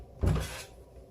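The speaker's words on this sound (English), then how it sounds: "I need to close my door." A bedroom door swings shut with a single soft thump and brief rustle, close by and alone in a quiet indoor room.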